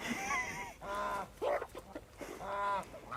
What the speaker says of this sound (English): Did I mention the geese never shut up?